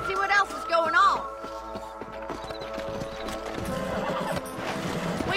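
Horses in the western video game Red Dead Redemption trot along with steady clip-clopping hooves and an occasional snort, set under a bed of game music.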